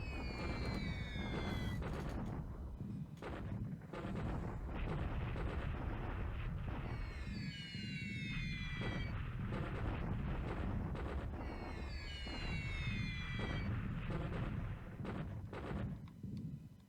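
Bombing explosions from a WWII strategy video game, a steady run of deep booming rumbles repeating throughout, with whistling falling tones layered on top at intervals.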